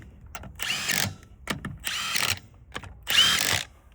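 An impact wrench tightening the wheel lug nuts on a Can-Am Defender, three loud close bursts of rattling hammering, each about half a second long, separated by short pauses and small clicks.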